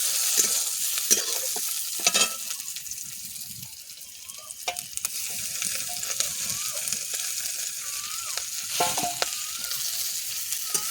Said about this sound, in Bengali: শাকগুলো দিয়ে 2-3 মিনিট নেড়ে নিলেই হয়ে যাবে।